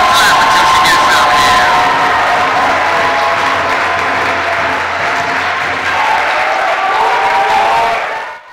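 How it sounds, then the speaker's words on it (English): Student audience at a university poetry event clapping and cheering loudly as a poet walks to the stage, with whoops and shouts over sustained applause that fades away at the end. "We keep clapping until she gets up"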